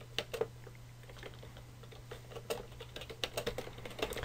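Quiet typing on a computer keyboard while entering a title in Google Slides, a steady patter of soft key clicks with a few sharper taps, close and alone over a faint hum.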